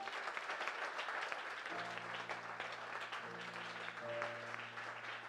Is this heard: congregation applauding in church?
yes